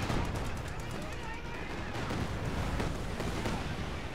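Katyusha rocket artillery barrage in Company of Heroes 2, a dense, continuous rumble of rapid launches and blasts with crackling bursts throughout, fairly loud and sustained, with speech faintly mixed in.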